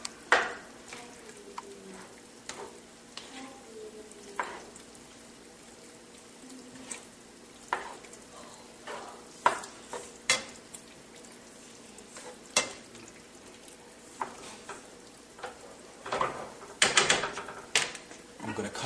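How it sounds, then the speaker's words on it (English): A utensil stirs a quietly simmering sauce with marinated artichoke hearts for chicken caprese, making sparse scattered clicks and scrapes against the pan over a faint low bubbling background. "I'm going to stir it all up"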